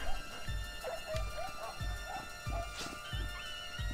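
A dog in the video game Rec Room barks in repeated short yips with whimpering between them, about one every half second, loud and close, with game noise and tonal effects behind it.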